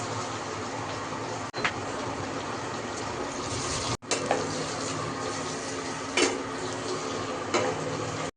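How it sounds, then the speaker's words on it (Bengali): Steady, close frying sizzle of onions in a pan, filling the whole stretch, broken by a few brief clicks and utensil knocks. "এবার পেঁয়াজগুলি কড়াইতে দিয়ে দেওয়া হবে।"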